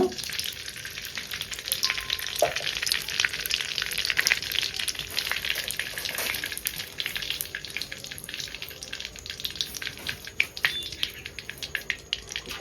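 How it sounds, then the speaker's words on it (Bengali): Dried chillies, bay leaves, cumin and cardamom tempering in hot oil in a wok, making a steady, close, bright sizzle with scattered small crackles and pops throughout, no voices. "দিয়ে দিচ্ছি কটা শুকনো লঙ্কা ফোড়ন আর দিচ্ছি তেজপাতা আর আমি দিচ্ছি জিরা আর কয়েকটা এলাচ ফোড়নে দিয়ে দিচ্ছি"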